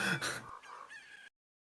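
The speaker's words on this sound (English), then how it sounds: "isn't that a chicken? It's cuckoos." A Cucco chicken in the video game Zelda: Majora's Mask gives a short burst of clucks, two or three quick calls heard clearly with nothing else behind them.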